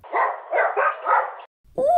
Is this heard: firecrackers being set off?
no